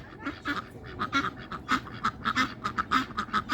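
Ducks on a farm quack repeatedly in quick, uneven bursts, several birds calling close by at moderate volume with short gaps between calls, no talking.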